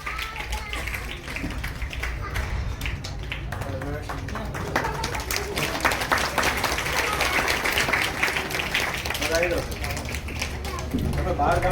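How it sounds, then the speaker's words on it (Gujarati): Dense applause from an audience at a Gujarati felicitation ceremony during a tree-planting event, continuous clapping filling the whole stretch with voices mixed faintly underneath. "ખૂબ બધી તાળીઓના નાદ સાથે આ સન્માનને આપણે સૌ આવકારતા રહીશું"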